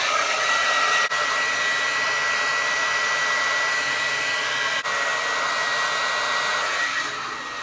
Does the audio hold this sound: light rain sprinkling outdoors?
no